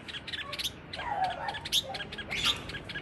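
Red-whiskered bulbul calling outdoors in cold weather, a run of short bright chirps and squeaky whistled notes in uneven bursts, fairly close and clear over light background hiss, with no talking.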